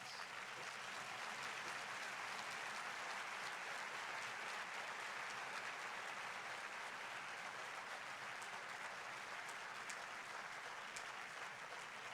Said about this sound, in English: give a warm round of applause to Professor Henry Louis Gates